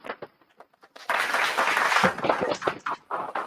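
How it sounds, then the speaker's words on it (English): A small audience claps in a loose burst that starts abruptly after a few scattered taps and then thins into uneven individual claps, moderately close. "I know y'all probably didn't hear them claps, but We did."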